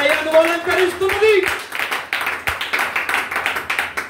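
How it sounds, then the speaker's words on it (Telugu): Church congregation clapping loudly during worship, quick rhythmic claps repeating in a steady beat after a voice speaks at the start. "గట్టిగా చప్పట్లు కొట్టి దేవుని మహిమపరచండి"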